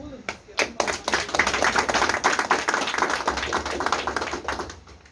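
A crowd applauds a fourth-place finisher at a youth cooking competition awards event, close and lively clapping with sharp individual claps standing out of a dense patter, rising and then tapering off.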